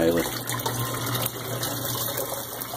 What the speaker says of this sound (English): I'm just going to put these, rinse them off, just for the sake of rinsing.